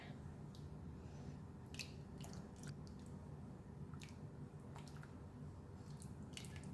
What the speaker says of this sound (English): it's the same amount of the flour water, so I'm just going to pour it in. Stir.